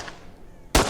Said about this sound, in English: Oh, that's a grenade.